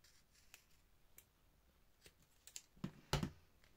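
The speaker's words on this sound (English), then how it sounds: "Just going to very quickly trim up this side a little bit." Scissors trim the edge of a paper lapbook in a few quiet, close snips, sparse at first, then a couple of sharper cuts near the end in a hushed room.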